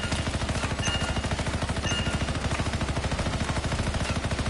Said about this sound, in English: Explosives ready. Stand clear for detonation.